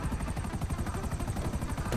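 An aircraft in Grand Theft Auto V flies with a rapid rhythmic chopping drone, loud and steady, with no talk over it.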